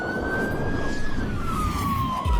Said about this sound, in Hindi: लेकिन तभी पुलिस की गाड़ी आकर रुकती है।